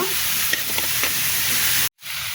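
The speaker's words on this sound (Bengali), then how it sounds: "এটাও সুন্দর করে ভেজে নিব" Boiled cauliflower stalks frying in a pan make a loud, dense sizzle with faint stirring scrapes, cutting out abruptly near the end before resuming briefly.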